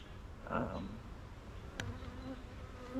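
A low, steady buzz of honey bees around a hive hums throughout, with a brief louder buzz passing close by, in an otherwise quiet outdoor setting.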